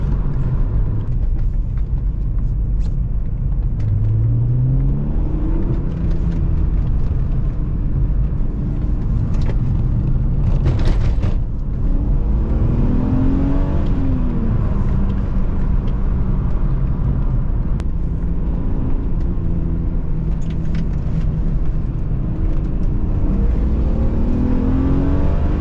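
A BMW E36 M3 lowered on BC Racing coilovers drives on the road from inside the cabin, engine droning loud and close with rising and falling revs through gear changes, plus some rattles and road rumble.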